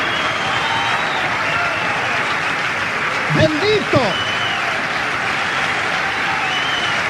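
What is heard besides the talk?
church congregation applause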